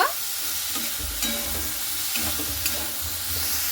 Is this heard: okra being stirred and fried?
yes